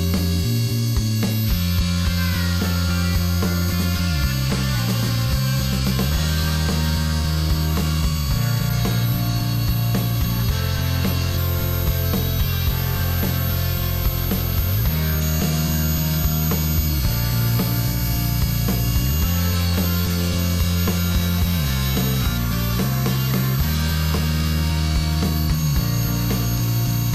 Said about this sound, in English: this should give you a good idea of the outlining and what you can do with these burrs